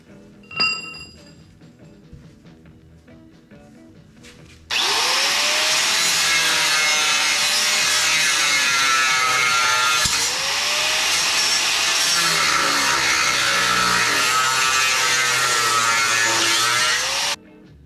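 A bracket being cut off the steel frame of a 1934 Chevy truck, a loud, steady cutting roar that holds for about thirteen seconds after a few light metal clinks, with its pitch dipping briefly as the tool bears down.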